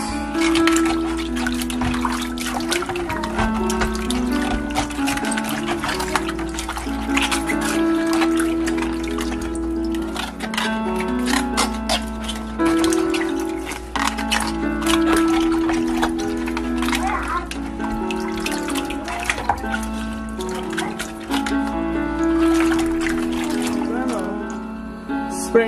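Kitchen tap water runs and splashes while cabbage leaves are washed with salt, a steady close trickle with intermittent clatter, and a voice talks over it.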